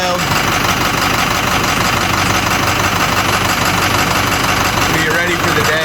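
A 6.0 Powerstroke diesel pickup with a ZF6 transmission, brought back after sitting abandoned, idles loudly and steadily, its dense diesel rumble running unbroken from start to finish.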